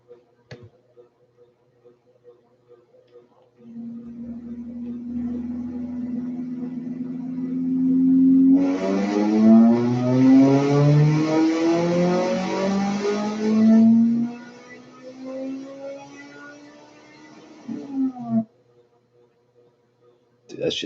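A Honda K20/K24 four-cylinder engine revs toward 10,000 RPM, rising from idle in a long climbing wail that peaks loud and harsh, then drops back and cuts off, with faint voices nearby.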